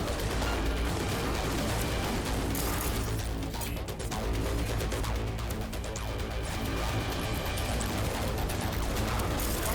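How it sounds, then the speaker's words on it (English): Rapid bursts of gunfire rattle through a dense, loud firefight in Cyberpunk 2077, layered over game music and mechanical clatter for the whole stretch, with no voices. "Hearing a lot of gunshots."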